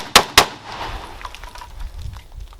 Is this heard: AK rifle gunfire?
yes